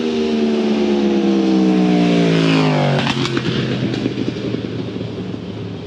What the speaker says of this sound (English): That motorcycle was making, probably going for a world record of noise production.